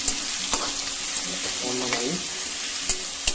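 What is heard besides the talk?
raw turmeric frying in the pan while cooking pork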